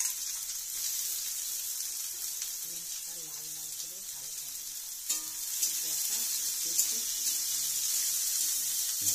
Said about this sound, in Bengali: আস্তে আস্তে ফ্রাই করা চলছে, অর্থাৎ ভাজা হচ্ছে।